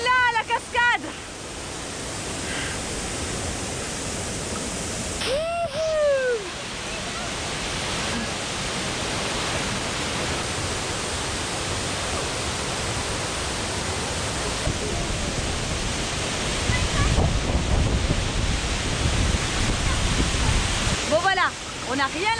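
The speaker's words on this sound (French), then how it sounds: "Elle est là, la cascade." A waterfall reached at the end of a trek on an active volcano in Chile roars with a steady, broad rushing wash that lasts throughout. Brief high whistling chirps rise near the start and end, and voices come in at times.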